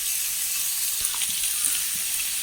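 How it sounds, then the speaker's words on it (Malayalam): Curry leaves dropped into hot oil with crushed coconut while making kadala masala, giving a steady, close, even sizzle and frying hiss that carries on without pause through the short stretch. "വേപ്പിലിട്ട് കൊടുക്കാം."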